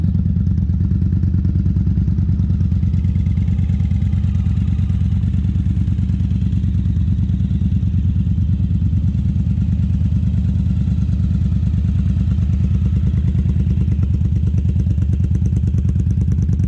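A BMW K100 cafe racer motorcycle is being ridden, its engine a loud, steady, continuous drone mixed with rushing wind noise, holding even throughout with no speech.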